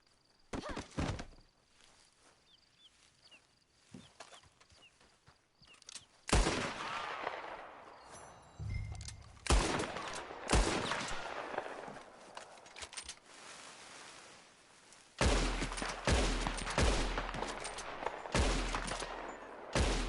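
Gunfire in the Red Dead Online video game: bursts of loud shots, some rapid and overlapping, mixed with dull thuds. They come in scattered clusters with short quiet gaps between them, and no one speaks.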